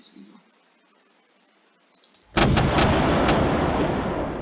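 Ship cannon fire in the Tabletop Simulator game Black Seas: a few faint clicks, then a sudden loud booming broadside that rolls on with repeated heavy blasts and sustained rumble.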